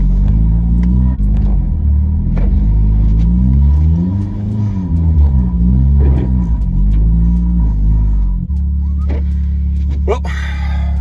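A 2011 Hyundai Genesis Coupe 2.0T drives through snow in Georgia, its engine rumbling loud and close, pitch rising and falling with repeated revs before settling to a steady idle, with someone talking over part of it.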